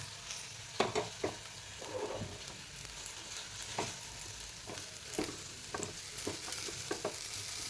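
Rice frying in a pan for pineapple pulao gives a steady sizzle. Irregular stirring scrapes and clinks stand out over it, and no voices are present.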